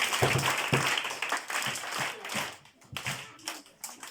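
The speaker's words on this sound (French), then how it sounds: "Acclamez très fort pour elle." A room of children applauds in a classroom, with dense rapid clapping that starts strong and then breaks into sparser, scattered claps as it fades. A little background chatter sits underneath.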